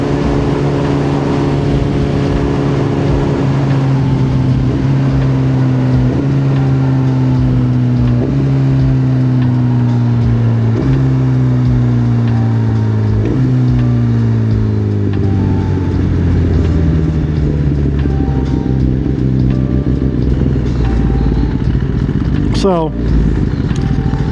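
A motorcycle ridden on the road gives a loud, steady engine drone whose pitch climbs and drops through several gear shifts, under constant wind rush.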